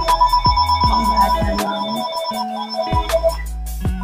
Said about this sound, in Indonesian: Aduh, ada telepon.